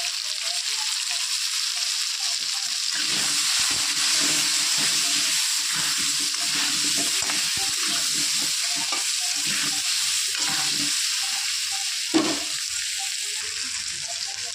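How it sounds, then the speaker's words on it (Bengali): Potato pieces fry in hot oil with a little salt and turmeric, a steady close sizzle broken by scraping stirs, with one sharper clatter near the end. "আলুগুলো লাল করে ভেজে নিয়েছি"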